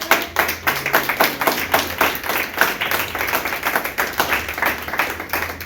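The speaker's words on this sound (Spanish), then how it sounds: "¿Quién puede aplaudir?" Church congregation clapping along in quick, rhythmic unison, a dense run of sharp claps filling the space at a steady tempo, fairly loud and close, with no talk over it.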